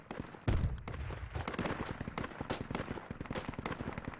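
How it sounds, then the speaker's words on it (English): Gunfire in the military shooter game Project Reality: dense, continuous volleys of rapid rifle and automatic fire crackling without pause, a heavy boom at the start and a few louder bursts later, with no voices. "as long as they're shooting at us, we're not shooting"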